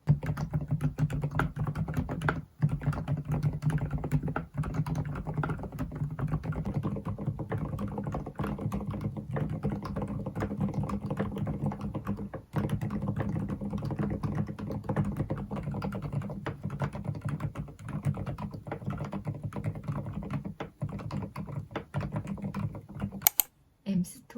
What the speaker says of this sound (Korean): 이 키보드도 소리 먼저 들려드리도록 하겠습니다